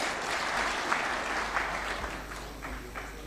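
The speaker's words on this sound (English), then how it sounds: "a round of applause for His Excellency one more time" A taxpayers' dinner audience gives President Ruto a round of applause, a dense, even patter of clapping that stays fairly constant throughout and is heard without speech.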